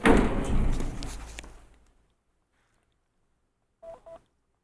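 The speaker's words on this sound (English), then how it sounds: "That locking system sounds a bit strange, but it's because of the generator machines." An old Kone traction elevator's clattering mechanical rumble fades out over two seconds, then after silence come two short, close tonal clicks of the door locking mechanism engaging.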